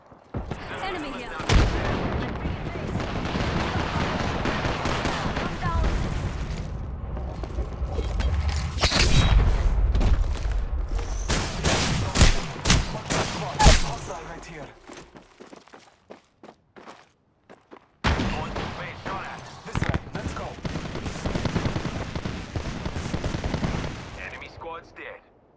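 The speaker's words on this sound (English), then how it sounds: "They're shooting at me." Gunfire in the Apex Legends video game: bursts of rapid automatic fire and single shots crack repeatedly with booms and footsteps, loud and close, broken by brief lulls before shooting resumes.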